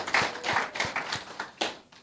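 A small audience at a Jamaican small business association public meeting claps in a short, sparse round, individual hand claps standing out close and fairly quiet, with no talk over it.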